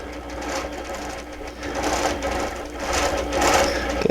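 A sewing machine running steadily while stitching a quilt in a flying geese pattern, a close continuous mechanical whir that speeds up slightly toward the end and then stops with a few clicks.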